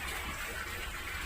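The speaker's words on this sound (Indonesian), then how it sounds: "Ini keran untuk air dari akuarium utama turun ke filter, lalu dipompa." Water running from the main aquascape aquarium through a tap down into the filter, a steady close rushing flow without a break.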